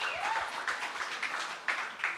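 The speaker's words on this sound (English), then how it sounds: "yeah, let's give him a big round of applause" An audience claps briefly at a boxing press conference for the Kevin Lerena versus Serhiy Radchenko fight, a short, moderately loud patter of applause with a few sharper claps near the end.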